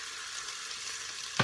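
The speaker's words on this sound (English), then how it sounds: "you want to give that a good stir so that the potatoes get coated with this oil that has been infused with all these delicious" Diced potatoes are stirred through hot infused oil in a pan, giving a steady, quiet sizzle and frying hiss that ends with a sharp clink of the utensil.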